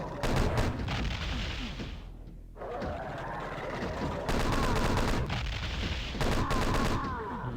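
Explosions and heavy gunfire fill a Doom 2 level, loud and dense booms with rapid crackling bursts, briefly dropping away before surging back in.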